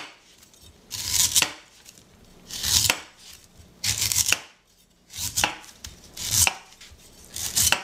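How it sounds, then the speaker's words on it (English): Sharp knife scraping husk off a coconut in rhythmic strokes, about six bursts of dry rasping, each roughly a second long with brief pauses between, close and fairly loud. "I'm going to take this knife and scrape some of the husk off of it"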